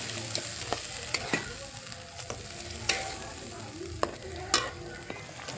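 A spatula knocks and scrapes through ground masala paste sizzling in a pan for fish curry, with sharp irregular clanks against the metal over a low, steady fry, up close with no speech.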